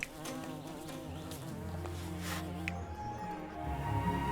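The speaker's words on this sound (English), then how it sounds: "Don't ask why the bees make more honey." Bees hum in a steady, continuous drone in the Laysara: Summit Kingdom game, a dense buzzing bed layered with soft game music and occasional light chimes, holding level throughout.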